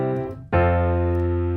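A sustained chord on an evenly toned instrument: a dominant seventh voicing with its seventh left out, preceded by a fading earlier chord and then struck cleanly, ringing steadily for about a second with no talk.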